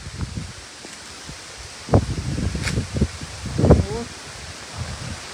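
Strong wind gusts at the entrance of the Phaya Naga cave, a rushing, rustling roar that swells and fades in bursts while a woman briefly exclaims.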